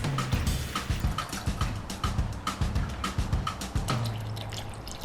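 Water is poured over pork belly in a cooking pot, giving a run of close, repeated splashing drips and trickles in an uneven rhythm, with no voices.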